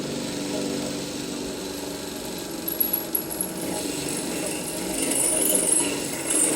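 A drill bit boring through a durable cold-weather slingshot target clamped in vice grips makes a steady, close grinding whir, with a few sharp rattling clicks midway and a louder, rougher stretch near the end.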